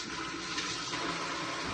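Water hisses steadily from a TopCraft kitchen faucet set to its spray mode, a short, even, close rush with no pauses or voices.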